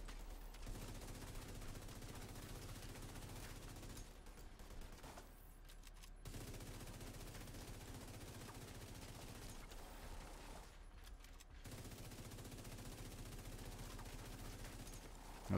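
The player's gun fires in long sustained bursts in a video game, steady rapid gunfire running for several seconds at a time, broken by two short pauses, fairly quiet overall.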